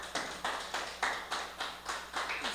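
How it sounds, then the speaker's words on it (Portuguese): A church congregation claps in strong bursts, about eight sharp swells of applause rising and fading in a regular rhythm, close and loud with no speech over it. "Pode aplaudir bem forte ao Senhor Jesus."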